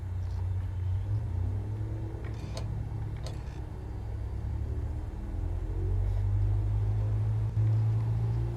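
Steady low engine drone of an aircraft at full throttle in Microsoft Flight Simulator 2020, a constant loud rumble with faint ticking clicks above it and no speech.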